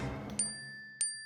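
Two bright WhatsApp group-chat message chimes ring out on a phone about half a second apart, each a crisp ding whose tone rings on after it, following a brief low murmur at the start.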